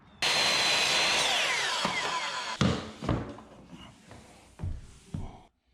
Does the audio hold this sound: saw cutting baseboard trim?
yes